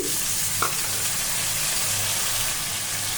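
Fish pieces with crushed garlic and salt sizzle in a hot pan of oil, a constant loud frying hiss, close up, with a single small clink early on.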